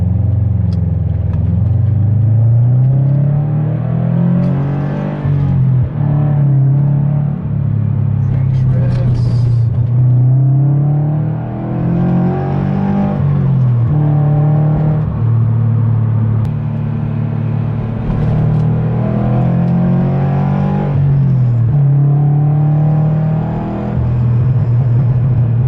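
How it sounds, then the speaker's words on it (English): A Subaru BRZ fitted with an aftermarket exhaust system makes a couple of accelerations. The engine rumble sits up close and builds in several revving surges with deep exhaust drone. Shifts and dips come between the pulls, and wind or cabin noise runs underneath. "I'll do a couple accelerations in my BRZ"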